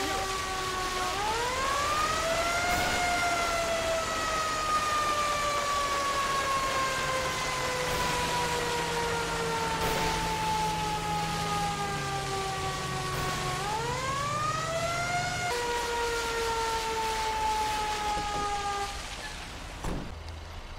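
A fire engine siren in the video game GTA 5 wails loud and close, slowly rising and falling in long sweeping cycles under a low engine rumble, then cutting off abruptly near the end.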